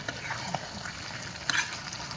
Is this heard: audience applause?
no